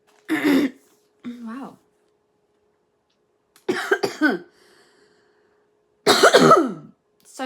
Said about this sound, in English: I've got a horrible cough, and it is really horrible